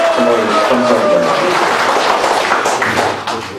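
Applause from an audience at a Korean political rally, dense broadband clapping under lingering crowd noise and the tail of amplified speech, sustained through the clip and fading slightly at the end.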